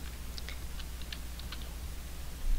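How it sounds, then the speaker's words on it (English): Keys clatter on a computer keyboard in a quick, light run of taps and clicks, close up and fairly soft over a low steady hum, with no talking. "I'm going to start typing Excel."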